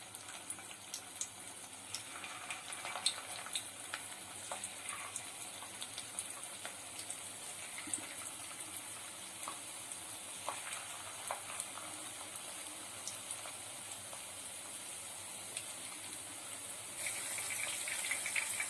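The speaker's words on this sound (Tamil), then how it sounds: "ஆயில் ஹீட் ஆயிடுச்சு. இப்போ சிக்கன் சேர்த்துக்க போறேன்." Chicken pieces frying in hot oil for honey chilli chicken, a steady broadband sizzle and bubbling that runs continuously without pause and swells slightly louder near the end, with no talking.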